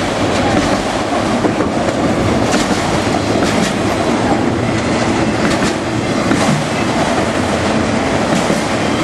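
A CSX mixed freight train with auto carriers rumbles past close and loud at Folkston, steady rolling wheels with rhythmic clacking over the rails and occasional faint metallic squeals.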